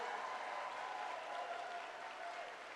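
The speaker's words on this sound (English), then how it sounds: "Let's give another round of applause to Tulsi Gabbard." Steady, dense applause from a town hall audience honoring a speaker, a continuous even wash of clapping held at moderate distance for the full stretch with no voices over it.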